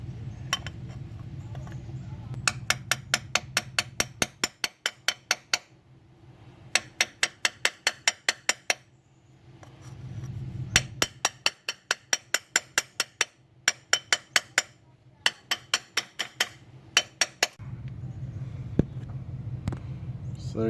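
Small hammer taps an output shaft seal into place on a 2006 Mitsubishi Eclipse, several runs of rapid light metallic taps in quick rhythmic series separated by pauses with a low background hum.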